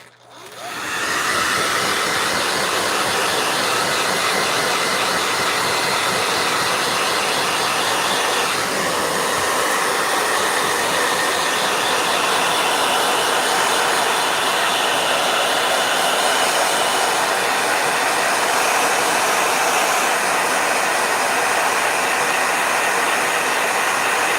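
A blow dryer runs loud and steady for the whole stretch after a quick start, a continuous broadband whoosh with no talk.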